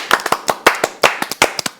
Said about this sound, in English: Clap. Yeah, clap. Let us clap.